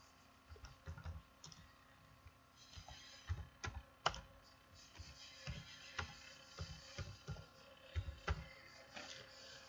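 Quiet, irregular clicking of keys on a computer keyboard as a form title is typed, with bursts of taps and short pauses, close by in a calm room.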